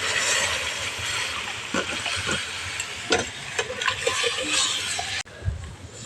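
Broth poured into spices already sautéed in a pan for a light vegetarian curry, a dense hissing sizzle with scattered stirring scrapes and a short break near the end.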